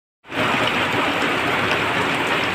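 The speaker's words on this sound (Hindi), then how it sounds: "ओले पड़ रहे हैं, ओले," Large hailstones pour down abruptly and loudly in a dense, steady roar of impacts, close by and continuous after a sudden onset, with no speech over it.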